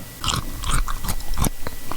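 Crunchy bites into a frozen ice cream bar, several sharp crackling bites spaced about half a second apart, close and loud with no talking over them.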